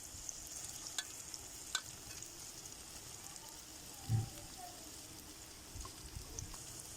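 A Spanish omelette cooking in a pan over low heat, a soft continuous sizzle with a few faint clicks and one brief low thump partway through.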